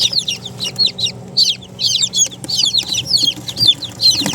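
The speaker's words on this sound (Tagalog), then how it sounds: "Ito yung new hatch po natin." Newly hatched blue egger and olive egger chicks peep in rapid, high, overlapping bursts from close by, continuous throughout, with faint low background rumble.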